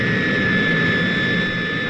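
A laboratory aircraft takes off behind the bomb carrier during a hydrogen bomb test flight. Its jet engines give a steady, loud roar with a sustained high whine throughout and no talk.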